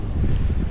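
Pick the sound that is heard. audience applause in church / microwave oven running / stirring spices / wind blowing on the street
wind blowing on the street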